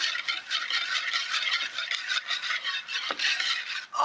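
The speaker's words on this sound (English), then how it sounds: "Whisk that all together." A sesame oil and sesame seed dressing is whisked briskly in a bowl, making a close, rhythmic swishing and light rattling that runs continuously, with a brief clink near the end.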